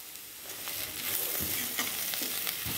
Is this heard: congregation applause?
no